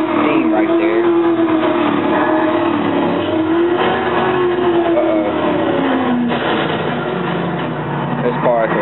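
A stolen car driving in a video game, its engine droning and shifting pitch steadily throughout, loud and close, with a voice talking over it.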